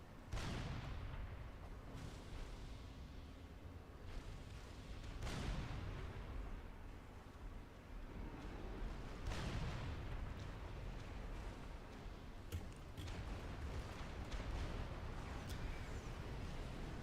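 Artillery fire in Supreme Commander: Forged Alliance: deep booms land every few seconds over a steady rumbling battle bed, fairly distant and muffled, with faint sharper pops near the end.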